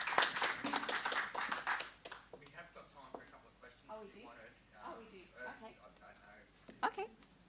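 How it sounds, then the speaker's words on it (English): A crowd claps in a burst of applause for a couple of seconds, which fades as a voice begins speaking over the room. "But please join me in giving Anindita another huge round of applause."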